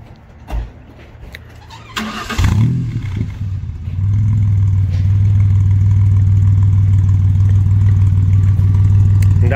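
A Ford Ranger with a Patriot dual exhaust cranks and starts after a few thumps, then settles into a loud, steady, deep rumbling idle that continues close by.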